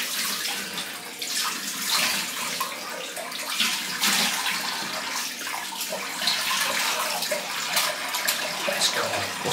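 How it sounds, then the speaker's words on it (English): Cold water runs steadily from a tap for rinsing during a wet shave, a continuous close splashing rush that holds for the full stretch with no voices over it. "Right, cold water,"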